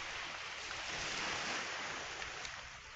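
Sea waves wash against a storm-damaged seawall, a steady broadband roar of surf and wind with no talk, close and constant throughout.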